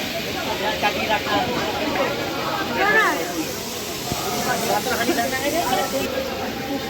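Crab sizzling in a salted frying pan: a loud, continuous hiss with small pops and sputters throughout, and a faint murmur of voices behind it.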